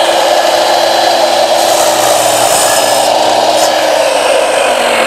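An 8-inch sliding miter saw running and cutting material: a loud, steady, close motor whine holds evenly throughout with no pauses, and no talking.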